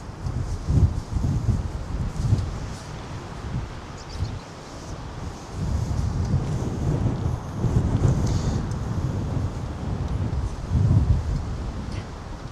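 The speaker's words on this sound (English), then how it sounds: "it is extremely windy right now." Strong wind gusts buffet the microphone outdoors at an abandoned 1900s farmhouse, a continuous low roar that surges and eases in waves, with leaves rustling faintly underneath.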